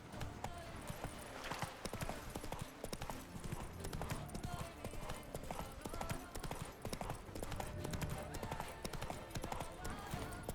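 Continuous galloping hoofbeats of the horse Roach in The Witcher 3, a fast, even clip-clop running throughout with a voice talking over it.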